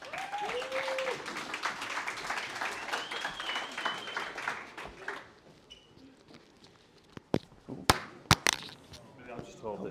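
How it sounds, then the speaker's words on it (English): An audience in Manchester claps to welcome a speaker to the stage, a dense burst of applause under a few spoken words that fades after about five seconds, leaving sparse scattered claps and knocks. "if you could all give a warm welcome and a round of applause to the stage"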